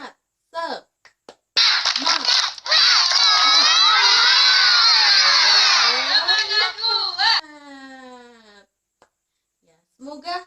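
A group of schoolchildren chants and cheers loudly together in a sustained burst of shouting voices, with shorter calls before and after; no distinct clapping stands out clearly.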